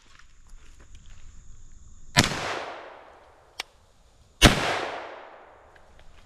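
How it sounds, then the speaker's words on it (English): Two loud unsuppressed gunshots from a CZ Scorpion SBR 9mm pistol-caliber carbine firing supersonic ammunition slowly into dirt outdoors, each a sharp crack with a long decaying echo, spaced about two seconds apart with a faint click between. "I'm going to start off with two shots unsuppressed with supersonic ammo, slow fire into the dirt"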